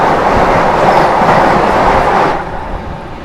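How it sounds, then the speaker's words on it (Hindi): The Howrah Vande Bharat Express rushes past close by, a loud roar of wheels and rushing air with faint clatter, tapering off sharply near the end as the train clears. "ये रही गया हावड़ा वंदे भारत एक्सप्रेस।"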